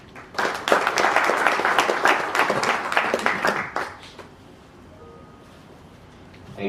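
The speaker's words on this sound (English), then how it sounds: "Please give a round of applause to Peter and KCB Group" A conference audience at a trade mission event in a Nairobi hotel gives a round of applause. The dense, loud clapping lasts about three seconds, then quickly fades to a quiet room.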